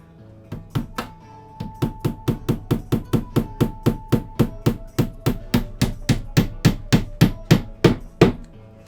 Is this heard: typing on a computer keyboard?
no